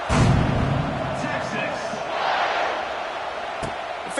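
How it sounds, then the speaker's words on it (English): A football stadium crowd roars loudly and steadily after a fair catch on a kickoff, dense cheering with a broad continuous rumble and a play-by-play announcer talking over it. "This crowd ready to make its presence known."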